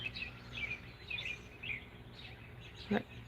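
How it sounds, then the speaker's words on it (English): Several birds chirp and sing in short bright phrases outdoors, with a brief low thump near the end. "One reason I love coming out here is to hear the birds"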